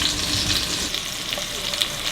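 Browned meat and onions frying together in a hot pan for food-truck plov, a dense close sizzle with light stirring scrapes, steady over a couple of seconds with no speech.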